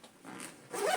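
Main zips of a 5.11 patrol bag being undone, a close zipping rasp that builds to a louder pull near the end, with no talking.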